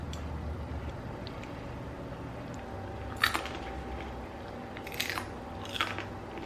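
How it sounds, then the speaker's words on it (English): Crispy air-fried pasta chips, served with marinara sauce, are bitten into with three sharp crunches spread over a quiet, hissy room background. "You hear the crunch?"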